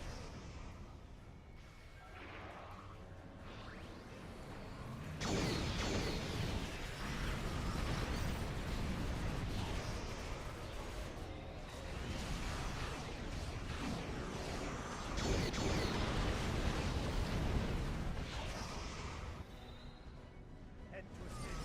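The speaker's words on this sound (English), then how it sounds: "I love having two back-to-back volleys of master torpedoes." Back-to-back torpedo volleys burst in a Star Trek Online space battle, dense booming explosions that swell and roll on, loud and continuous, with louder surges partway through.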